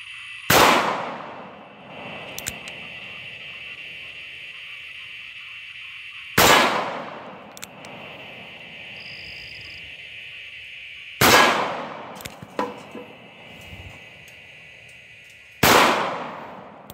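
Four loud, sharp shots from a Charter Arms Bulldog revolver chambered in 45 Colt with a 2-inch barrel, spaced several seconds apart, each with a ringing decay and no talk between them.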